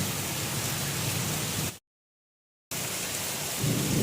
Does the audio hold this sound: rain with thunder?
yes